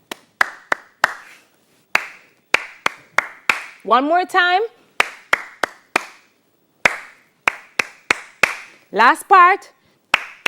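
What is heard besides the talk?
clapping a body percussion rhythm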